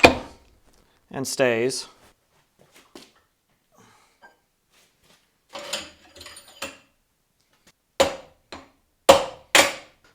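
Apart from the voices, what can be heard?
tapping a tool into the mill spindle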